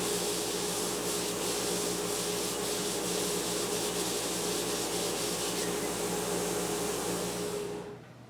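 A Grizzly radius sander with a 60-grit belt sands a guitar neck, a loud, continuous abrasive rubbing hiss that runs steadily before cutting off abruptly at the end.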